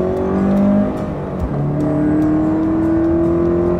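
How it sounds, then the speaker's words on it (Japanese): A car accelerates on a closed training course, its engine note climbing steadily and loudly with rising revs after a brief dip, heard up close with no talk. "加速していきます。"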